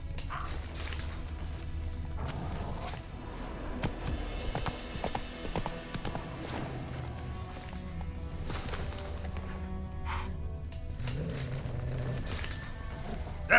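Hooves of Geralt's horse Roach clip-clopping in The Witcher 3, a steady trotting rhythm of moderately loud hoof strikes with some faint clatter and ambient rumble underneath.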